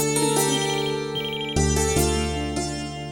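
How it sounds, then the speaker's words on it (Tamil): A telephone ringtone plays loudly and steadily, with repeated melodic tones and sustained harmonics, and no speech over it. "ஃபோன் அடிச்சு அடிக்குது"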